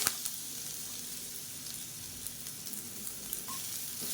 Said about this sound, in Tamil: பெருங்காயம் நல்லா பொரிய ஆரம்பிச்சிருச்சு